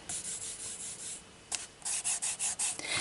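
Colouring pencil scratching across a pre-prepared page coated with satin glazing liquid: soft, slightly rough repeated strokes, close but quiet, with a short pause before a quicker run of strokes and no voices.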